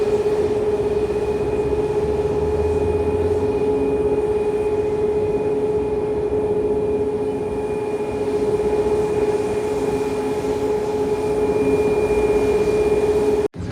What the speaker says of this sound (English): Right over here we have Aerojet flight 1001 heading to Punta Cana on a MAX 8.